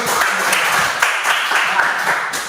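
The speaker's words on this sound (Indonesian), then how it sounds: "Tepuk tangan dulu." Students in a classroom applaud together after group presentations, a continuous, loud round of clapping that stays close and steady.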